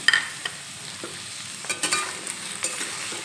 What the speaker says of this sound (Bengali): এখন নেড়ে চেড়ে সব কিছু একসঙ্গে মিশিয়ে নেব।